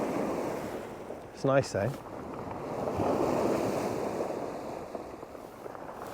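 A strong, cold wind blows by the sea beside a boat launch, a continuous rushing gust over the sound of waves. A short spoken phrase cuts in briefly near the start.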